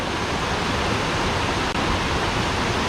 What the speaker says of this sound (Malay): level atas lagi ada air terjun sikit